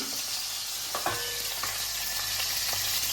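A fish head fries in hot oil in a pan, a steady close crackling sizzle with several sharp spatters and pops scattered through, no voices.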